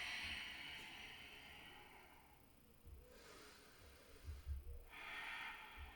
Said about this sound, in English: So you should be able to hear the deep inhale and hear the deep exhale